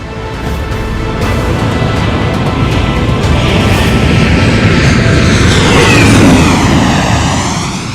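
Mi-17 V5 helicopter flying past at the Chennai air show over the Marina, a loud broad engine and rotor roar that swells to a peak and slowly fades, with no voices.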